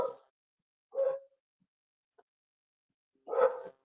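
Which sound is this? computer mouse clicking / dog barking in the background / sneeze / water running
dog barking in the background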